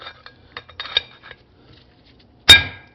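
Metal tools tap and chip slag off a weld during clutch work on a John Deere 4020 tractor: several light clinks, then one sharp, loud metallic strike near the end, close by with no talk.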